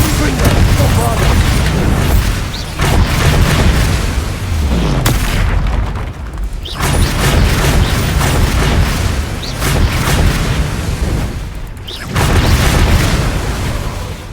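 Spell explosions in the video game Hogwarts Legacy, Confringo and Bombarda blasts, a loud continuous barrage of booming bursts and rumbling impacts in close succession, with brief lulls between waves of combat.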